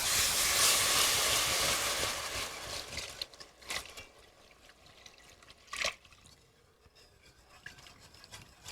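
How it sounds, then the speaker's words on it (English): Milk and stock pour into a blonde roux for loaded baked potato soup, a broad liquid rush and hiss for the first three seconds that thins into scattered trickles, drips and scrapes, with one sharper clink near the end. "Now I'm going to start to add in the milk and the stock."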